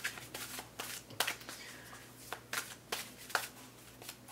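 Oracle cards are shuffled by hand, producing quick repeated riffling bursts and soft slaps in an irregular rhythm, close and fairly quiet, with no one talking.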